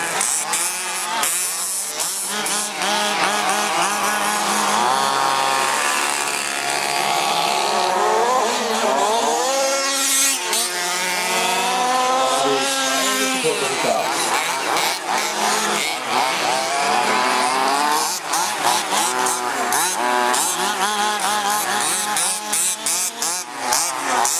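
Several HPI Baja radio-controlled cars race off the start of a heat in Hillerød, their small engines blending into a dense, loud, continuous buzzing whine that rises and falls as they rev, with no talk over it.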